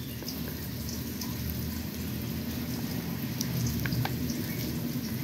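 Tofu browning in a pan for adobong talbos kamote, a steady close sizzle and frying crackle running throughout with a few brief higher clinks near the end.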